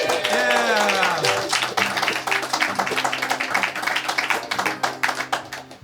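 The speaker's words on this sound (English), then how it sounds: "give Cody and Dave another round of applause" Audience applause for two musicians at an intimate live acoustic gig, a dense patter of hand claps with some whoops and voices mixed in throughout.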